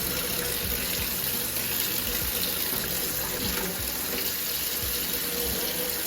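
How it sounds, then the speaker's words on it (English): Steady running tap water pours continuously at close range, a constant splashing hiss with no voices. "let's make sure my water is nice and cold before I fill it up."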